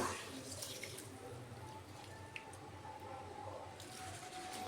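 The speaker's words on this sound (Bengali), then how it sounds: "তাই আমি দুই রকমের সরিষে নিয়েছি ভালো করে ধুয়ে নিচ্ছি" Black and yellow mustard seeds are rubbed and swished by hand in a bowl of water, making faint, soft squishing and sloshing sounds that continue steadily at close range.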